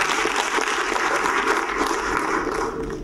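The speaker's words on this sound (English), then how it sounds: "we clap for the cloner" An audience at a business school presentation breaks into loud, continuous clapping, a thick crowd of hands close by, with faint voices mixed in beneath.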